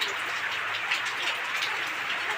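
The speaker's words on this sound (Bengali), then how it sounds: "এই যে বৃষ্টি শুরু হয়েছে" Steady rain falls in a dense, even hiss that carries on without pause for the whole stretch. Faint scattered drops patter through it, and no one speaks.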